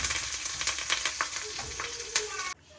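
Green chillies and ginger frying and being stirred in a pan for an amla pickle, with crackling sizzles and scraping stirs under a voice talking, ending abruptly.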